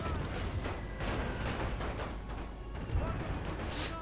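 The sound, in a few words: gunfire in Napoleon Total War video game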